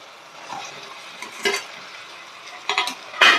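Fried chicken being mixed into chilli chicken sauce in a pan, with a few sharp scraping stirs standing out over a low, steady sizzle; no talking.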